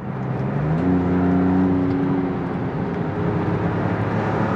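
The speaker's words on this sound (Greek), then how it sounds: "είναι απολαυστικό να ακούς το γουργούρισμά του και το φύσιμο από τις τουρμπίνες, το σκάσιμο από τους Westgate" An Alfa Romeo 33 Stradale on a road test gives a continuous engine rumble with a rising whir as it accelerates, a steady mid-distance drone with a brief tonal swell early on.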